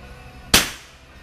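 A single sharp crack from a .22 LR rifle firing Winchester Super X subsonic ammunition, close and loud, followed by a brief decaying tail, with quiet before and after.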